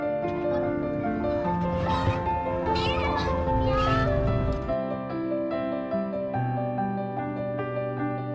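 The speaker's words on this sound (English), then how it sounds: "It keeps meowing and asking for help." A cat stuck inside a gutter meows repeatedly in long, strained, wailing cries, loud and close, with a steady background hum underneath.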